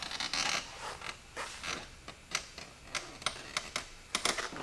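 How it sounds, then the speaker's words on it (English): A creaky chair in a garage, heard as a run of sharp, irregular creaks and clicks at close range, fairly loud, with no one talking. "Sorry for the creaky chair."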